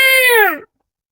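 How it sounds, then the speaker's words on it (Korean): An old cat lets out a single loud, drawn-out meow, close and alone, with the pitch sagging toward the end before it cuts off into silence. "늙은 고양이가 마지막 울음인 양 크고 길게 울었다"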